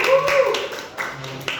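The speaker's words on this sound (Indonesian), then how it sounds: "Tepuk tangan buat Arsyanya." Brief burst of classroom applause for a student presenter during an Indonesian poetry lesson, a few seconds of sharp, uneven hand claps in a small room with a voice mixed in.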